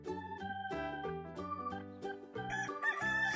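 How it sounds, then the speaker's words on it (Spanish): A farm rooster crows close by, its call ringing out alone amid a few clucking notes, with no voices over it. "Adivinaste, es el gallo."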